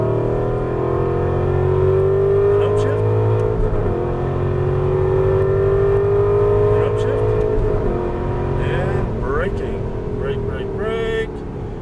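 Aston Martin V8 Vantage accelerating hard on a race track at Las Vegas, heard from inside the car: a loud, sustained V8 roar climbing in pitch through the gears, with a voice talking over the engine.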